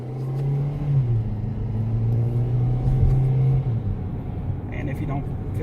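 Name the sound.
2018 Kia Rio engine revving on downshift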